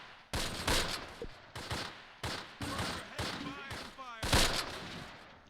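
Suppressing gunfire in the Close Combat war game, set at Groesbeek Heights near Arnhem: loud repeated bursts of rifle and machine-gun fire in uneven volleys, one heavy blast near the end, with no talk over it.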